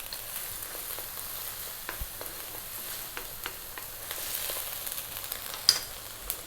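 Garlic ginger paste sizzling in hot oil in a frying pan for a carp fish curry: a steady, fairly quiet crackle with scattered pops and one sharper spatter near the end, no talking.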